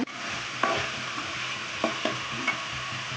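Finely ground paste for avarekalu saaru fries in a pan with a steady sizzle, while a spoon scrapes and stirs it in a few short strokes, close by.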